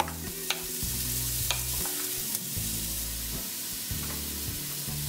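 Onions sweating gently in a pot over low heat with a dash of olive oil, a soft steady sizzle with intermittent stirring scrapes, close and continuous with no one talking.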